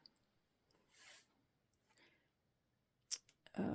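Scissors snip through paper card in a few short, crisp cuts separated by quiet pauses, with small handling rustles and a louder burst of paper noise at the end.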